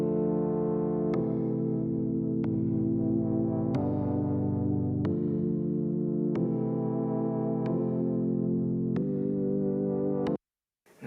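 A warm, sustained synthesizer pad playing keys chords in Logic Pro, slow chords that change every second or so, smooth and alone, ending in a brief silence.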